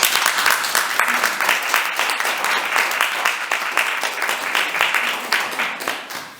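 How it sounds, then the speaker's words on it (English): Applause for the ice dance medalists at a European Championships press conference: dense, sustained clapping from a nearby audience, steady and loud across the whole stretch before tapering at the end. "Can we just have a round of applause actually for the medalists?"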